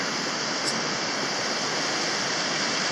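The Red River, a small brook on the Pollett's Cove trail in Cape Breton, Nova Scotia, rushes past near a footbridge. It makes a loud, steady, close hiss of flowing water with no breaks and no voices.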